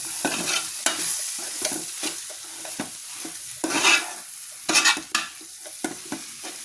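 Chicken curry with pepper powder sautéing in a pan, a continuous hiss of frying interrupted by regular scraping strokes of a spoon stirring, close and fairly loud, without any talking.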